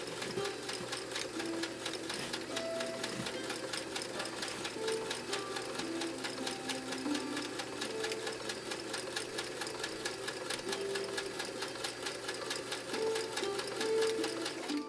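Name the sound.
Kenmore sewing machine sewing fabric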